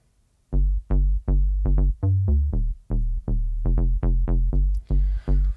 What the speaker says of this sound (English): let me start by playing just the bass sound for you